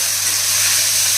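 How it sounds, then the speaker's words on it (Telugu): Chopped onions and four sprigs of curry leaves fry in a hot pan, giving a steady, loud hiss and sizzle that holds evenly throughout with no talking. "అలాగే 4 రెమ్మల కరివేపాకు వేసి ఇవి కూడా బాగా వేగించేయాలి"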